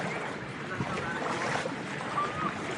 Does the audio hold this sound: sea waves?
yes